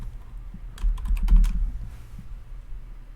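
Quick typing on a computer keyboard to run a Google search: a brief flurry of about six or seven close keystrokes, fairly faint and near, over a low background hum, with no talking.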